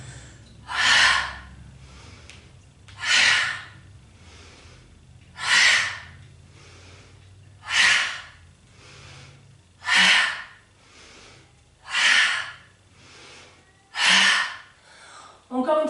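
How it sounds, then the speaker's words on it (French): Guided deep breathing, with regular strong breaths in and out about every two seconds, close and clearly audible over a quiet background. "Inspire, expire. Expulsez votre souffle."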